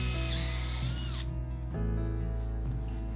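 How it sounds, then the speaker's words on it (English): A power drill bores holes into a wooden top support for a barn-wood bar, its motor whining loud and steady from start to finish, with the pitch shifting as the bit bites and loads up partway through. "To attach the top, I drilled out 2 holes about 1 inch apart in 3 spots along the top support."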